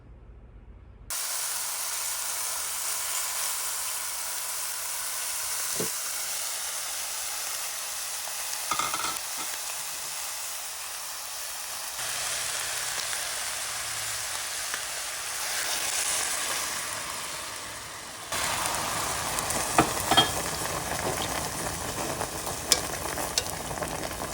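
Hoisin pork with sake cooking in a pan, a steady sizzle and hiss of frying with occasional stirring scrapes and small pops, continuous and close, with no voices.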